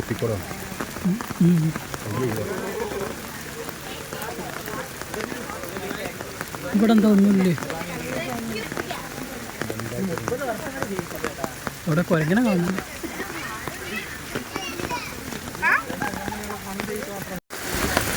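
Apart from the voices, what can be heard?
rain falling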